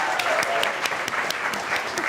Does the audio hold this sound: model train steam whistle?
no